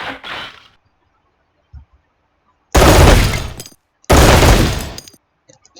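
Machine gun fire from a trench in a World War II strategy game, two long loud sustained bursts after a brief distant noise, close and harsh.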